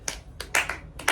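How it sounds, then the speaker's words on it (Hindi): A few people clap at a small family gathering in winter: several sharp, close hand claps in an uneven, sparse rhythm, with no talking. "ताली बजाओ भाई सब लोग"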